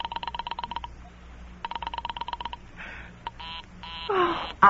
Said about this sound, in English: will you ring that Murray Hill 40098 number again?